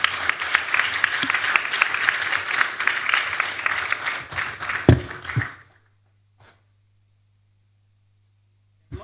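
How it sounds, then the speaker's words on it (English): An audience applauds a panel with dense, steady clapping that runs for several seconds, then stops abruptly into near silence with a lone faint clap afterward. "Please, a round of applause for this panel."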